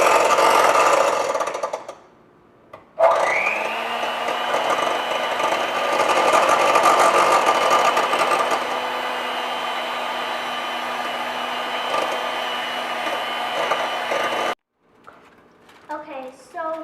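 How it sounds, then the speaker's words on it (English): An electric hand mixer beats eggs in a bowl as cake batter begins, a steady loud whir running about eleven seconds after a brief start, with speech before and after it. "once you've beaten your eggs"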